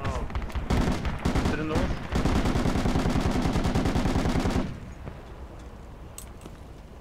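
Rapid bursts of automatic gunfire in a video game, loud and dense for several seconds before cutting off abruptly, with excited players talking over the shooting.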